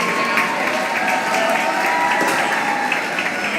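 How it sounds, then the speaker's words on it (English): An audience at a varsity swim meet's senior recognition ceremony applauds and cheers, a dense, steady wash of clapping from a crowd in an indoor pool venue. "Let's give one last round of applause to all of our ceremonial honorees."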